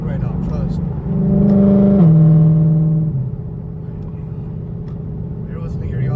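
A Shelby GT500's engine rises on light throttle from inside the car, a deep droning hum that swells and climbs in pitch, then drops with a gear change and settles into a steady cruising rumble.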